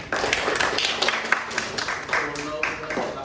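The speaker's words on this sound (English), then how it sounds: "I would just like to give them a round of applause." A classroom group claps in a scattered round of applause, with voices chattering over the patter of hands.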